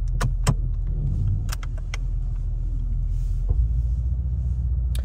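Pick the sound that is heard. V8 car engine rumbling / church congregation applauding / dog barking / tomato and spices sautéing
V8 car engine rumbling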